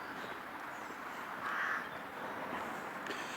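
Crows cawing along a quiet walking path, a few harsh calls at moderate distance over a soft outdoor background hiss, with no talk.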